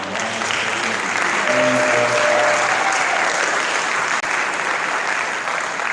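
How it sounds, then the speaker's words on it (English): Steady applause from a crowd at a high school signing day event, dense clapping that holds at a constant level throughout, with faint talk under it. "I wanted to give everybody to clap it up for Coach Kelsey missing."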